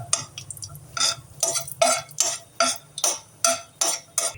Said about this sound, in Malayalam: നമ്മൾ ഈ നെയ്യിൽ അധികം അണ്ടിവേപ്പ് ഇളക്കി നെയ്യിൽ ഇത് റോസ്റ്റ് ചെയ്തെടുക്കുക.